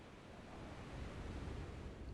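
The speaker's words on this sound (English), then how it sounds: "A tropical cyclone in open waters thousands of miles away can lead to huge waves that crash into the Gulf." Ocean waves surging into the Gulf, a broad continuous roar of surf that swells slightly partway through, with wind rush and no voices.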